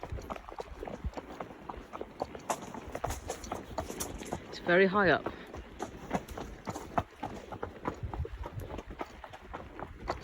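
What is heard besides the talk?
horses' hooves clip-clopping over a viaduct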